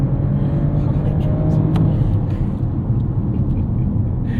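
A 2024 BMW 750e plug-in hybrid sedan pulling hard in boost mode at full throttle, heard from inside as a steady, heavy low rumble of engine and road noise with no clear rise in pitch.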